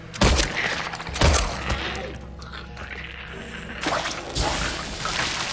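A monster bursting apart in Silent Hill 2 Remake, with sharp heavy impacts and whooshing blasts: two strong hits early, a rolling crackle between them, then another burst near the end.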